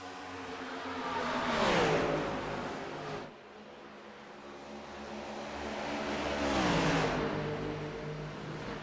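Stock race cars of a Chevrolet NextGen series accelerate past on Charlotte Motor Speedway. Two engine surges rise and fade over a few seconds each, a mid-distance roar that swells and recedes with no talk.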